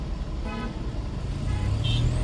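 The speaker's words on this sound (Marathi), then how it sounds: "Traffic and traffic." Road traffic rumbles low and continuously, with a brief car horn toot near the end, and faint voices sit under the noise.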